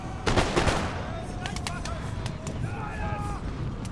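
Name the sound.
grenadiers' musket volleys, fire by rank, in video game Empire: Total War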